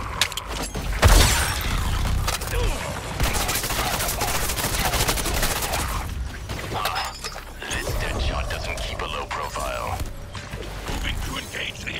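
Gunfire in Suicide Squad Kill the Justice League, a busy video game battle with a sharp burst near the start, then sustained rattling weapon fire and mechanical clatter, with speech mixed in underneath.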